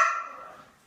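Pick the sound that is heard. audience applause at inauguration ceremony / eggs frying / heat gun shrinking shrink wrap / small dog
small dog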